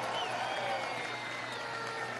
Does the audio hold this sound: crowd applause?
yes